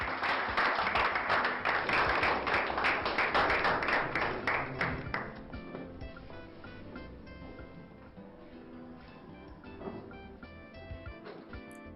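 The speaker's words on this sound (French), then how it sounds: "Continuez d'applaudir s'il vous plaît" Audience applause at an award ceremony, a dense wash of many hands clapping that is loud at first, then thins to scattered claps and fades under quiet background sound.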